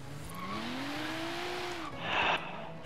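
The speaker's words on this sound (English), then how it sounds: "I hear a car." A car drives in the Forza Horizon 3 video game, its engine note rising steadily as it accelerates, then a brief burst of tire noise, moderately loud with no talking.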